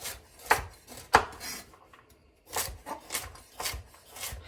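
Carrots chopped with a knife on a cutting board for chicken and veggie soup, a series of close, crisp cuts and scraping strokes with a short pause in the middle.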